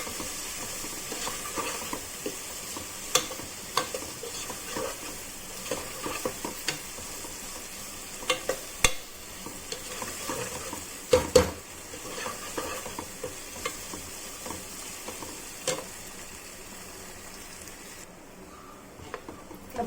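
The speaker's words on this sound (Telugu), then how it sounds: "మంచిగా ఉల్లిపాయ అల్లమెల్లిపాయ అంతా రొయ్యలకు ఇదంతా మంచిగా నూనెలో వేగిపోయింది" Prawns with onion, ginger and garlic fry in hot oil, a soft continuous sizzle broken by repeated scraping and clicking stir strokes of a spoon against the pan, close and fairly quiet.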